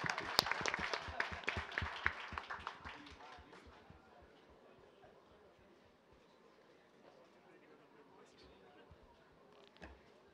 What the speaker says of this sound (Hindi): तालियां तो बजाओ यार